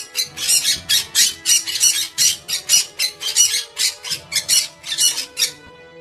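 A parrot in an animated Hindi story squawks in rapid repeated bursts, about a dozen sharp, loud calls in quick rhythm with short gaps between them.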